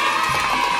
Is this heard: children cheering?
yes